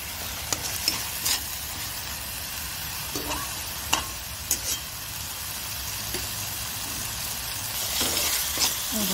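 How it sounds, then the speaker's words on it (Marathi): Black chickpea curry sautéed in oil with a constant close sizzle, broken by occasional scraping stirs of a spoon against the pan, the frying growing slightly louder near the end. "असं छान परतवून घ्यायचं आणि मध्ये मध्ये त्याला सारखं हलवत पण राहायचं।"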